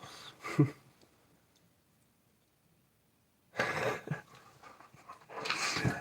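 A puppy pants in short, breathy bursts close by, with brief whimpering sounds, separated by a long quiet stretch.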